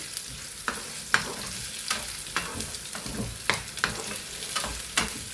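Kashmiri chillies fry in a pan for Kerala fish curry: a steady, close oil sizzle broken by repeated scrapes and knocks of a stirring utensil at an uneven rhythm, with no voices.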